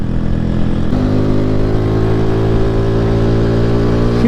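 A Bajaj 125 cc motorcycle engine runs steadily with a loud, close exhaust drone and a sustained rev that shifts pitch slightly near the start and then holds even throughout.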